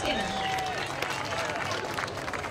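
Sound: crowd applause for Howard Skinner

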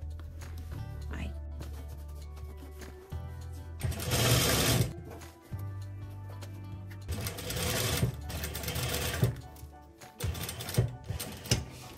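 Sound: sewing machine stitching a sport collar seam

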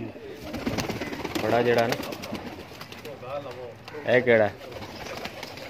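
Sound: pigeons cooing

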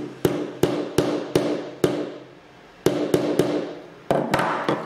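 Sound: hammering a nail into a piece of wood

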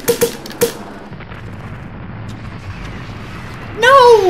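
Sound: gunfire from Call of Duty video game

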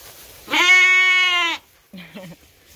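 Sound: sheep bleating

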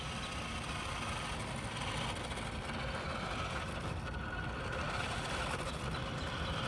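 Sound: 1986 Nikko Ferrari Testarossa 1/10 RC car doing slow passes

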